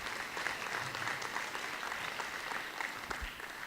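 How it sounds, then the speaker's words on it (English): An audience claps steadily for a JROTC unit at a school district's state-of-the-school address, dense sustained applause throughout with no speech over it. "One more round of applause, please,"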